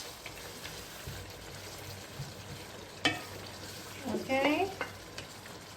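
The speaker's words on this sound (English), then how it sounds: "now we're going to add the peas. Afegim els pèsols. That's it. Let's give it a stir." Peas are stirred into sizzling Catalan chicken rice in a pan over medium heat, giving a low, steady fry with a sharp scrape and a burst of stirring and sizzle near the end, along with a brief spoken word.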